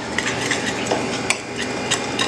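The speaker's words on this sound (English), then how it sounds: "I'm going to mix that up" A spoon stirs salt and black pepper through potato latke mixture in a bowl, a continuous loud scraping swirl with small clinks, close and alone.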